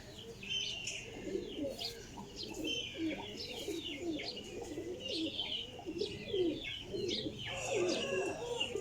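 Sialkoti Jaunsira pigeons coo in a flock, low rolling calls layered with sharper chirps and an occasional flutter of wings, close and continuous throughout.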